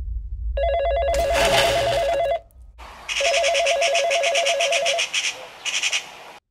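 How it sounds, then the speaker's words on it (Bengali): A mobile phone rings in two bursts of a repeating electronic ringtone, loud and close, with a short gap between them and a brief trailing chirp at the end. "এই অসময় আবার কে ফোন দিল"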